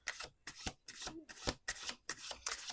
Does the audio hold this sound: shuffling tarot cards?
yes